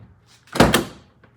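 A Mitsubishi 3000GT VR4 with a 4G engine swap has its door shut once, a single solid thunk close by with a brief rattle after, otherwise quiet.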